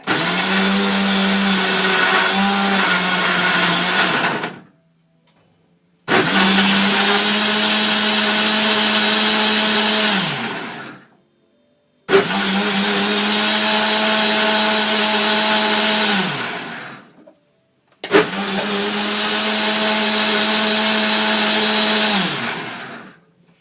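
An electric blender whirs loudly while making a green smoothie, running in four long steady bursts separated by brief pauses, its motor tone dipping slightly near the end of each run.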